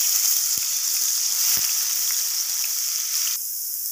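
Garlic ginger paste hits hot ghee in a karahi over a high flame, giving a loud, steady hiss of sizzling that fills the whole stretch, with a couple of faint low knocks and a slight drop in the hiss near the end.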